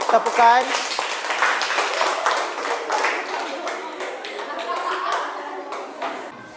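A class clapping during a lesson on the Islamic funeral prayer, with scattered hand claps of moderate loudness rolling on for several seconds and a brief voice near the start.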